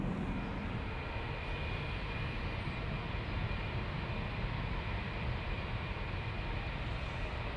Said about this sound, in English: It's an A319, flight 429,